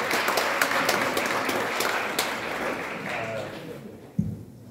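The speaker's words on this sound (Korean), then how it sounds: "박수." An audience at a press conference breaks into a burst of clapping as a pastor is introduced. The dense applause fades over a few seconds and ends with a single sharp knock.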